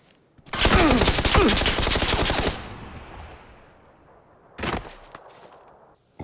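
Gunfire in PUBG, a loud, rapid automatic burst lasting about two seconds that trails off into echo, then a shorter, fainter burst a couple of seconds later, with no talking over it.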